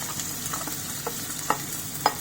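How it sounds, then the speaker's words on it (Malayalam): Finely sliced onions fry in hot oil for chicken biryani, a steady close sizzle broken by a few scraping stirs, with no talking. "പിന്നെ ഈ നൈസായിട്ട് അരിഞ്ഞിട്ടുള്ള സവോളയാണ് ഇനി അടുത്തത്. അത് നമുക്ക് ഫ്രൈ ചെയ്തെടുക്കണം."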